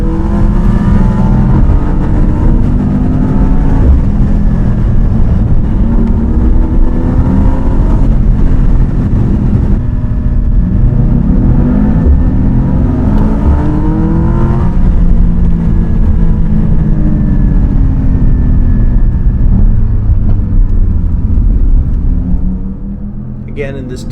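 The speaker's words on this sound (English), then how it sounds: "Spyder carried a lot more speed through this off-camber turn and put power down earlier than the E63 did." A Porsche 718 Spyder and a 2021 Mercedes E63S drive hard on a twisty road, with a loud, continuous engine roar rising and falling through corners and a narrator talking over it, fading slightly at the end.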